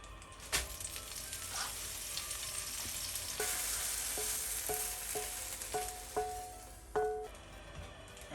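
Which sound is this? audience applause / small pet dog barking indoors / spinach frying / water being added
spinach frying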